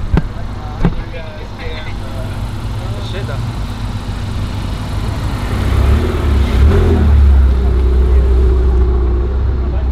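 An Acura TSX engine runs at a car meet, a steady mid-pitched rumble that swells louder toward the middle and holds there, with crowd noise and voices around it.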